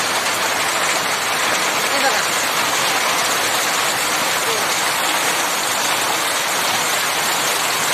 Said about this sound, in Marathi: आजच्या दिवशी बघा पाऊस किती जोरात पडतोय